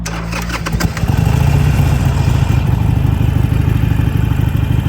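Harley-Davidson Sportster Iron 883 motorcycle idling loudly and steadily up close after a brief clatter of shifting into neutral, its low engine rumble continuous with no talk over it.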